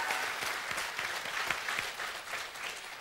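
Studio audience applause for a guest on a televised music quiz game show, a steady broadband clapping that holds loud and even for about three seconds with no voices over it.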